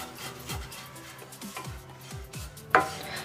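One cup of oats stirred and dry-roasted in a hot pan on low flame produces a rhythmic series of scraping strokes, roughly two per second, with a faint sizzle and a sharper clink near the end.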